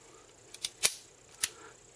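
A revolver's trigger being pulled, with the hammer and cylinder giving a few sharp, close mechanical clicks spaced irregularly, the strongest near the middle, against near silence.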